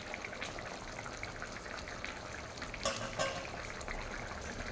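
Bottle gourd and egg curry fries on a high flame while being stirred, giving a soft, continuous sizzle with scattered scraping clicks of the spoon, fairly quiet and close.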